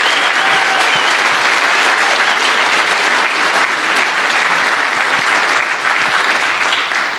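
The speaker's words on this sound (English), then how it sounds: "let's give another round of applause to these fine presenters today." Dense, loud audience applause for student presenters at a capstone project invitational event, sustained evenly throughout without talk.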